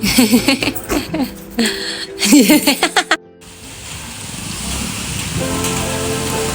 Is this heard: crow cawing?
no